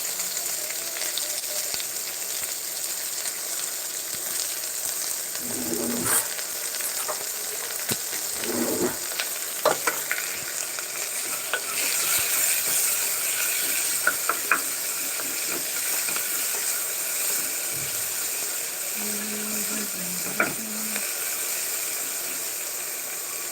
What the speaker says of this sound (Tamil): ஃபஸ்ட்டு எண்ணெய் நல்லா சூடானோன்னா வெங்காயம் வெங்காயமும் ஒரே ஒரு பச்சை மிளகா போட்டுக்கேன்